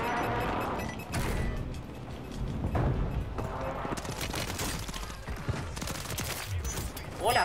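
Rapid bursts of gunfire from a Renetti pistol in Warzone 3, a dense run of sharp shots and impacts repeated throughout, heavy and close, with game noise layered in.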